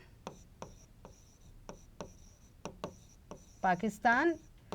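A pen writes on paper during a class lesson in repeated short strokes and taps, close and fairly clear. A voice speaks briefly near the end.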